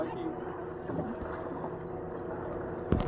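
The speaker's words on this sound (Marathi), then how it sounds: "होडी जाम म्हणजे अशी हलता कारण ते 2 बोटी गेले त्यामुळे" A small wooden boat on a mangrove creek rocks in the wake of two passing boats, with soft water lapping and faint wind noise against the hull, ending in a light knock.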